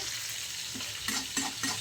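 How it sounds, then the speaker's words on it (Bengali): Snakehead fish frying in oil in a pan for a bottle-gourd curry, a steady close sizzle and crackle with a few brief louder spits and stirring sounds. "এদিকে আমি মাছগুলো ভাজছি"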